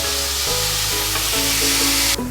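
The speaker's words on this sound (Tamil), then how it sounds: "வெங்காயத்தை சேர்த்துட்டு வெங்காயத்தை ஒரு 5 நிமிஷம் மீடியம் ஹீட்டில் வச்சு நல்லா வதக்கிக்கலாம்." Chopped onions sautéing on medium heat for a restaurant-style chicken gravy produce a close, steady sizzle with constant hiss and crackle, continuous and loud with no voices.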